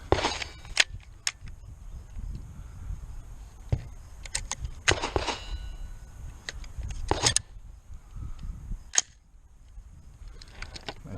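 Gunshots at an outdoor shooting range during a ten-round string of reloaded ammunition, sharp loud cracks at irregular intervals, some in quick pairs, over a background of wind and ambient noise.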